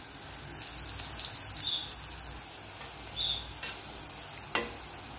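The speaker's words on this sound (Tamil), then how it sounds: "இப்போ ஒவ்வொரு பால்ஸாக போட்டு ஃப்ரை பண்ணிக்கலாம்" Raw banana balls deep-frying in hot oil make a steady, soft sizzle, broken by a few sharp clicks and light taps as they are stirred.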